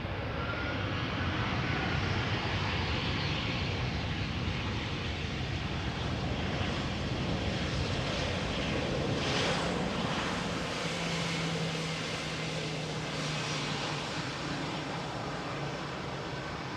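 Airbus A318 airliner at Amsterdam Schiphol Airport, a steady loud jet engine roar with broadband rushing noise held throughout, swelling slightly midway before easing.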